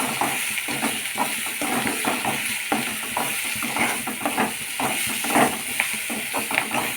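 Garam masala and coconut powder are stirred into an egg fry in a pan. A spoon scrapes and clinks in an irregular rhythm over a steady sizzling hiss, close and moderately loud, with no talk.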